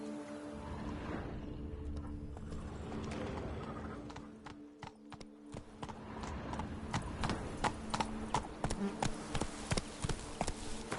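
Horse hooves clip-clopping in The Witcher 3: Blood and Wine, a brisk regular run of close hoof strikes that grows sharper toward the end, with insect buzzing and a steady musical drone underneath.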